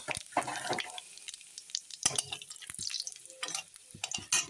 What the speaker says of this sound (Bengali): ফোড়নটা ভেজে নিয়ে এখন প্রথমে আলুগুলো ভেজে নেব